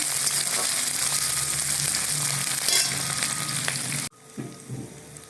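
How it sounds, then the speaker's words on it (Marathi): Onion added to a pan of hot oil already frying cumin and cinnamon for a Marathi-style veg pulao, a steady loud sizzle that cuts off abruptly near the end, leaving a few soft stirring sounds. "आता आपण त्याच्यामध्ये कांदा टाकून घेऊ व्यवस्थित घालून घेऊ कांद्याला"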